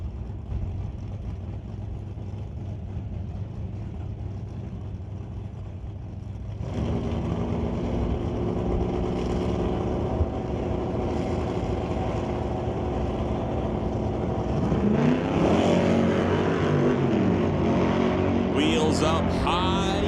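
Drag racing cars, including a 1976 Plymouth Duster, rev at the starting line and then launch. A steady engine drone swells louder with rising revs near the end, under an announcer's talk.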